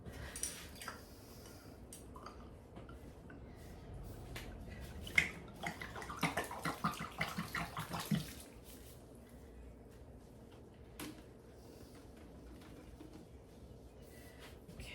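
Faint water runs and splashes into a container for a few seconds in the middle, amid quiet room noise and light clicks.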